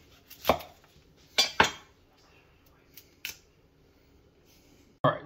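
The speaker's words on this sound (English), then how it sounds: "you're gonna want to cut the florets even smaller" A kitchen knife chops broccoli florets into smaller pieces on a cutting board, a few sharp separate cuts spaced out over a few seconds, close and fairly quiet, with no talking.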